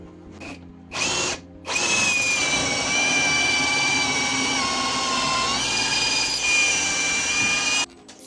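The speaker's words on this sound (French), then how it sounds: "Et plus qu'à percer." A power drill bores into wooden roof tie beams during a stone house renovation. Two brief starts are followed by a long, loud, steady high whine up close that stops abruptly.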